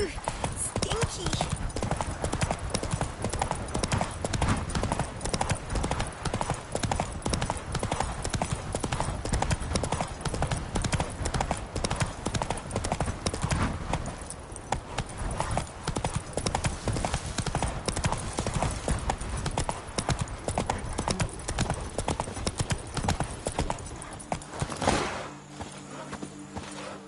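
Roach the horse gallops in Witcher 3, a steady rapid clip-clop of hooves running throughout, close and loud, with game voices talking over it and a brief whinny.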